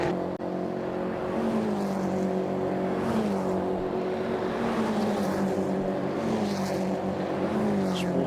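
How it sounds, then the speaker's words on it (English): Race cars on the Brands Hatch Indy circuit in a Gaz Shocks 116 Trophy race sweep past below a commentary box, a loud, sustained multi-engine roar with shifting pitch as the group passes close by. "Just watching the cars beneath my commentary box window here. Just seeing them go through now."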